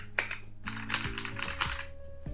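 Quick clicky keystrokes on an MK4500 mechanical keyboard, a burst of rapid typing heard up close, with a low electronic tone running underneath.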